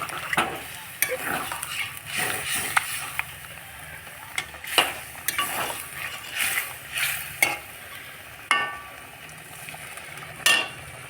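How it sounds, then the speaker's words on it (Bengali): Meat sizzles and fries in a pan while being stirred, with repeated scraping and clanking strokes of a spoon against the metal over a continuous hiss. "মাংসগুলো ভালো করে নেড়ে চেড়ে কষিয়ে নেব।"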